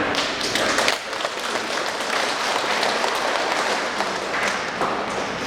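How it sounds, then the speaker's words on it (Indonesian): A crowd applauds steadily at a religious ceremony of perpetual vows, a dense wash of many hands clapping at once, sustained throughout without any talking. "kita tepuk tangan"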